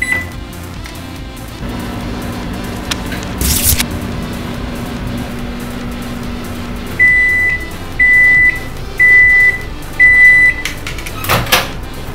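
A microwave oven hums steadily as its door bangs and a beverage button is pressed, followed by four evenly spaced loud electronic beeps and a final clunk, with no talk.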